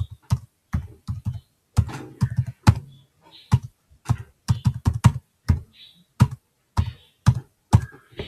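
Typing on a computer keyboard into an online input field: crisp, close key clicks in quick bursts and short runs, separated by brief pauses, with no talking over them.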